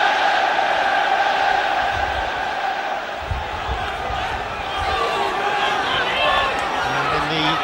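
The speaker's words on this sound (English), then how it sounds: "the first opportunity for the crowd to open their throats and roar their encouragement for Everton" An Everton home crowd at an FA Cup quarter-final against Middlesbrough roars as a corner is taken, a broad, sustained wash of stadium noise with a commentator's voice over it.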